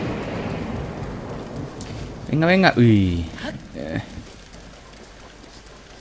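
Rain falls in the video game Breath of the Wild as a soft steady hiss, with someone speaking briefly over it partway through and the patter continuing alone afterward.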